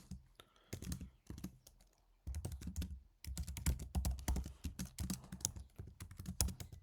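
Rapid keystrokes on a computer keyboard while code is typed for an LRU cache solution in Python, a steady stream of close clicks with brief pauses between bursts.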